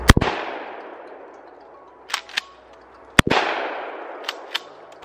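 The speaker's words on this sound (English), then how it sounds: "I'm gonna shoot 2 rounds from each shotgun to see which one has the best recoil." Pump-action and semi-auto shotguns fire two loud, close blasts about three seconds apart during a recoil test, each with a long ringing echo tail. Faint mechanical clicks and clacks of handling follow each shot.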